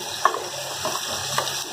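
Masala curry paste of tomato, ginger, garlic and onion sizzles steadily in hot oil for egg curry, with a few soft scrapes of stirring rising over the constant frying hiss.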